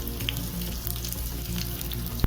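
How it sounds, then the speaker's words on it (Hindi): Roughly chopped onion hits hot oil in a frying pan for a dosa chutney. A steady, soft sizzle runs throughout, with a few light clinks and one sharp tap near the end. "चलिए प्याज डाल देते हैं रफली चॉप किया हुआ।"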